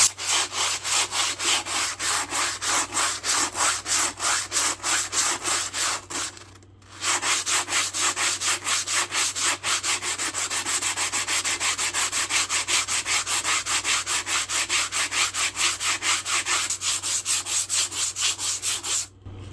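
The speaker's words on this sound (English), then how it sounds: "I'm going to use some 60 grit to get all this rough rust off" Coarse 60 grit sandpaper rubs steadily over a rusty machete blade, a close, loud rhythmic scratching of quick back-and-forth strokes with one brief pause partway through.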